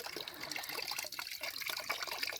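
Coolant drains steadily from the radiator of a 2006 BMW X5 3.0i during a flush, a continuous close trickle and splash of liquid into a container with no talking.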